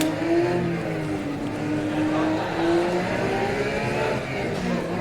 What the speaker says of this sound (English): So I've been plonked in my Porsche on what looks like an American highway.